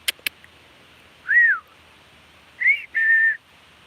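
A person whistles for a dog on a rural South Dakota farm the morning after rain. There are three clear whistle notes, a rising-falling one and then two short notes, after a few sharp clicks at the start, against a quiet outdoor background.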